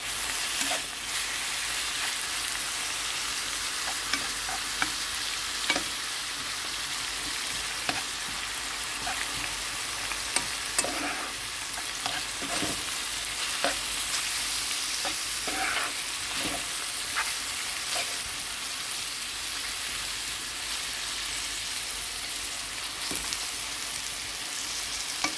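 Vegetables with pepper stewing in a frying pan for Ukrainian borscht, giving a steady close-up sizzle with occasional stirring scrapes and clicks throughout, and no voices.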